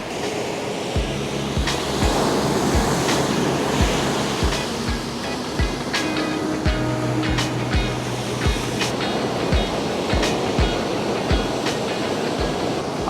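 Ocean surf rolling onto Marina Beach in Chennai in the early morning, a loud continuous wash of breaking waves with repeated rhythmic crashes close by.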